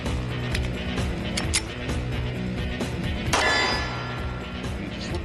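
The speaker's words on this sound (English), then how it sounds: "So we're going to feed it a Wilson Combat ETM mag here." Metallic clang of a Wilson Combat ETM magazine seated into a Kimber Team Match II .45 ACP 1911 pistol, a sharp single impact standing out against quiet room noise.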